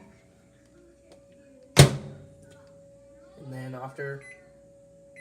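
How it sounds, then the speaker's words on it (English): A new Panasonic microwave door shuts with a sharp, close thunk. A steady electrical hum follows, then a brief beep as the oven starts. A person speaks briefly just before the beep. "I got a new microwave, and it's a Panasonic brand, and I'm gonna cook it for 2 minutes"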